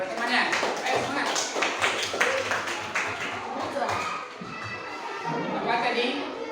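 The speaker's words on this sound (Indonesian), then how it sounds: "Kasih aplaus dulu buat temannya." Students in a classroom clap for a classmate, a dense burst of applause running throughout with scattered voices and chatter mixed in.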